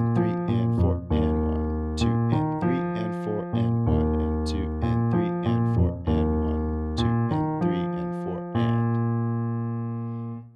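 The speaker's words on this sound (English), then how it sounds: "So the entire pattern with the left hand sounds like this" Solo piano plays the left-hand pattern from the intro of a song, a steady repeating cycle of low, sustained chords struck in even rhythm, close and clear, with no talking.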